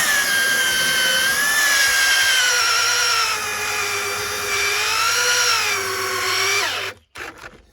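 An electric drill bores into porch wood while raising a farmhouse porch, a loud, close, steady whining motor with slight pitch wavers for about seven seconds, then stopping abruptly with a brief rattle.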